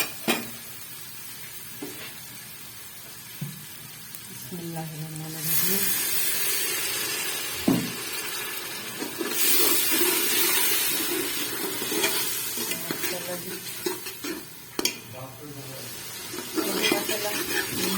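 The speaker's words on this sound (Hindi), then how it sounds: "2 टमाटर हमने बड़े साइज के डाल दिए इसमें, और यहाँ पे हम देंगे इसको पानी का छटा।" Two large tomatoes in a hot pan sizzle, then a splash of water bursts into loud hissing steam; a spoon stirs and scrapes, and someone talks over the cooking.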